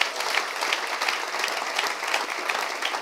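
A church congregation claps steadily, a dense, even sustained applause from a crowd filling the room, with no one speaking over it.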